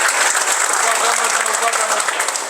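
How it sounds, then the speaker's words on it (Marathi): A large crowd at a political party-joining event bursts into loud, dense applause, sustained clapping filling the whole moment with no talk over it. "एकदा सगळ्यांनी जोरदार टाळ्या वाजवून त्यांचं स्वागत करूया."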